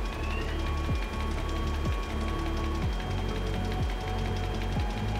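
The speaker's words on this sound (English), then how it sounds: "This the noise is the information for the printer that the automatic non-stop change is running." A Koenig & Bauer Rapida 106 sheetfed printing press runs steadily during an automatic non-stop pile change. A dense mechanical drone carries sustained signal tones and a repeating low sweep about once a second.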